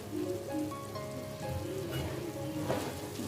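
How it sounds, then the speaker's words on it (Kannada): Ivy gourd (tondekai) pieces frying in a pan for vangibath, a steady close crackling sizzle that continues evenly throughout without talk. "ಎರಡು ನಿಮಿಷ ಇದನ್ನು ಕೂಡ ಫ್ರೈ ಮಾಡ್ಕೋತಾ ಇದ್ದೀನಿ"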